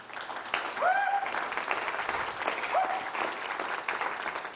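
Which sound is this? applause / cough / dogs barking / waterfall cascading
applause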